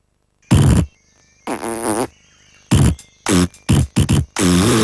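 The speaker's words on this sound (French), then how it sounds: "fais péter ton mobile avec le singe rappeur" Fart-sound ringtone for a mobile phone in a French TV advert, a string of loud, close, blaring farts of varying length: two long ones, then several short rapid bursts, ending in a sustained blast.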